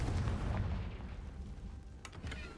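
Confringo explosive spell blast in Hogwarts Legacy, a deep booming burst that rumbles loudly at the start and decays over a couple of seconds, followed by a few faint sharp crackles.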